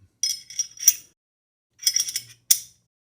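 A Glock 48 MOS pistol barrel slid back into its slide, giving a few close, light metallic clicks and scrapes in two short bursts with a quiet gap between, ending in a sharper click.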